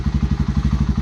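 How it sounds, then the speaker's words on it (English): A 2009 Honda CBR125R motorcycle fitted with an IXIL slip-on exhaust idles close by, its single-cylinder engine putting out a steady, even low thump of rapid pulses, heard alone. "So here is the IXIL exhaust. It looks good, sounds amazing."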